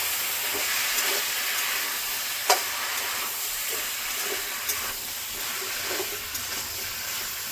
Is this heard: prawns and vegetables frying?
yes